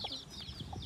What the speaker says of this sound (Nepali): यहाँ छन् हाम्रो चल्ला चल्लीहरू।